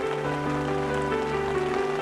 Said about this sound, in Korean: 비가 대지를 적신다.